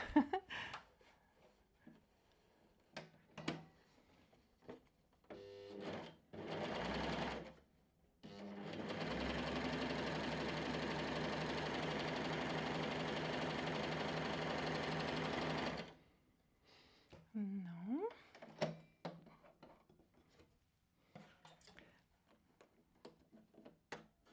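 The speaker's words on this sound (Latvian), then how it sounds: "Nu, vienkārši atšūsim maliņu ar šo te dūrienu." Bernette b68 sewing machine stitching along the edge of knit fabric, a steady continuous mechanical whir of about seven seconds, preceded and followed by clicks and handling sounds.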